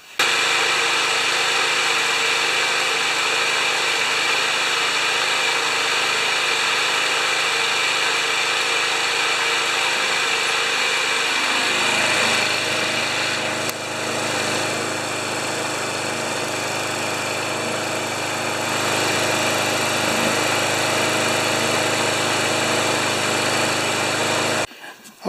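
A rare Tecumseh 6.5HP VLV lawn mower engine runs steadily and loudly close by, its tone dropping and settling partway through before continuing to drone until it cuts off at the end.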